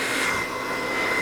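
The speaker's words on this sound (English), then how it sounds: "Now, I have my blow dryer at an angle." A blow dryer runs steadily while drying relaxed or natural hair, giving a continuous close-up whooshing roar with a high whine and no pauses or talk.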